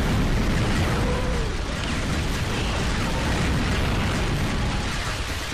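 Continuous loud, dense blasting from bombs dropped on a watchtower in the side-scrolling shooter Jets'n'Guns, a steady roar of overlapping explosions with no gaps and no talk.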